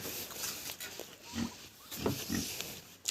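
Pigs grunt and snuffle in short, scattered bursts, fairly close but quiet, against a soft background hiss.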